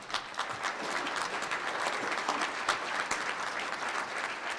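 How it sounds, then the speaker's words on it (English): Sustained, even applause from a banquet crowd at a roast, honoring standing agricultural credit association underwriters, dense clapping that holds steady throughout without talk. "Please give them a hand."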